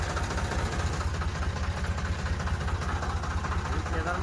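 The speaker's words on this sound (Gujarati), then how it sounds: "આપણું ટ્રેક્ટર રેડી છે." A tractor engine idling in a village farm setting, a steady low rhythmic chugging that holds constant throughout, close and continuous, with voices talking over it.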